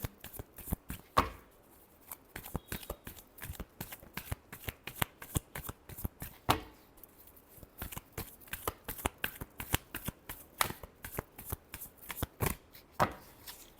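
Tarot cards being shuffled up close, a steady run of crisp riffling bursts and snaps repeating throughout, with no talk over them.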